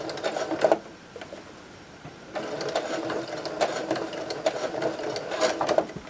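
A sewing machine stitches through thick, layered oven mitt fabric in two bursts of rapid, rhythmic whirring, pausing briefly in between, close and fairly loud with no voices.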